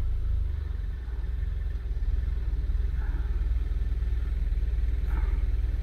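Ford Explorer engine running steadily with the transmission in gear, a continuous low rumbling hum close by with slight variation in load, no speech.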